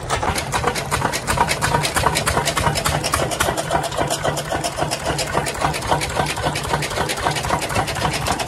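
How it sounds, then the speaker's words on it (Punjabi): A chaff cutter machine chops fodder on a Punjabi farm, a loud, fast, steady rhythmic clatter over a running engine hum throughout. "ਹੁਣ ਲੱਗੇ ਆ ਪੱਠੇ ਕੁਤਰਨ।"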